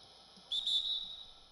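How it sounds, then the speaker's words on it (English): A referee's whistle in the NBA 2K20 basketball video game gives one sharp, shrill blast of about half a second, clear against a quiet background. "And there's the whistle."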